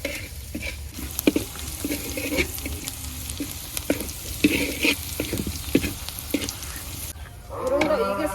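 Onion and green chillies fry in hot oil in a village kitchen, giving a steady sizzle with scattered crackles and stirring clinks throughout, and a brief watery splash near the end.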